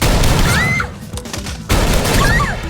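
Gunshots in a scene from the film Godzilla: Final Wars: two loud, roaring bursts of fire with booming impacts, separated by a brief quieter gap.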